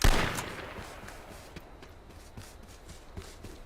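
Gunshots in the video game H1Z1, a strong shot at the start followed by scattered sharp cracks at irregular intervals, moderately loud over a soft background.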